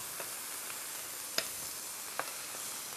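Halloumi cheese frying in a hot pan gives a steady, fairly quiet sizzle with a few small crackles and pops, and no voices over it.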